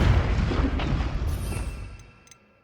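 Confringo fire spell cast in Hogwarts Legacy, a single loud booming explosion with a deep rumbling burst that fades away over a couple of seconds.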